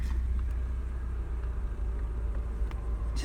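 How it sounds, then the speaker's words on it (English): Outdoor traffic passes by as a low, continuous rumble of cars, moderately loud and steady throughout with no voices. "The car sounds totally take away from it."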